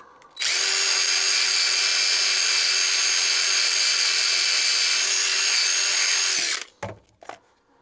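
A drill spinning a wire wheel grinds rust off a bolt on a Diacro finger brake, a sheet metal brake. One loud, steady, high-pitched whir holds for about six seconds and then cuts off, followed by brief clatter.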